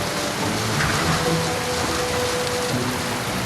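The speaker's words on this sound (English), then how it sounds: "That night, the wind blew and the rains poured down." Steady, loud rain pours down with wind, a dense unbroken wash of noise lasting a few seconds with no talking.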